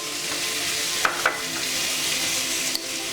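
Onion and green chili pieces frying in oil for jeera rice, a steady hissing sizzle close by, with a couple of soft stirring knocks partway through.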